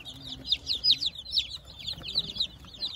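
Newly hatched chicks in a warm brooder lined with rice hull, peeping in quick high chirps one over another, close and steady, with a low background rumble.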